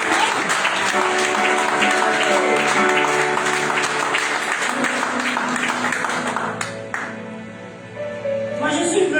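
A church congregation breaks into loud, dense applause that fills the first several seconds, then thins and fades as voices and faint music take over near the end.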